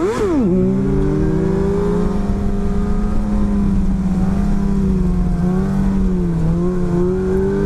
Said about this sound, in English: Second gear, same speed, same clutch and everything. We're just going to pop it up here.